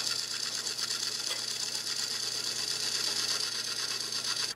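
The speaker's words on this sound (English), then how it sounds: "You can shear the wood, shaving it like this." Lathe chisel shearing and shaving a spinning wooden practice cylinder, a steady close whirring hiss with a soft rasping texture that runs unbroken throughout.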